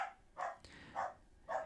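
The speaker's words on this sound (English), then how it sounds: "apologise if you hear the dog in the background." A dog barks four times in the background, evenly spaced and moderately faint, with no talking over it.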